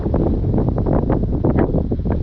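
Wind gusts buffet the microphone during a flight of a HobbyZone Carbon Cub S2 RC plane, a constant low roaring rumble with irregular swells and no voices.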